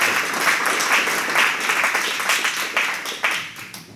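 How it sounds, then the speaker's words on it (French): Loud, close audience applause following a law lecture, a dense burst of clapping that gradually thins and grows more uneven toward the end, with no speech. "les applaudissements vont à l'éloquence de John Pitzeis, mais aussi à la qualité de l'argument"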